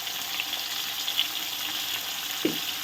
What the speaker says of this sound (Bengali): এবার আমি আলুগুলোকেও ভালো করে ভেজে নেব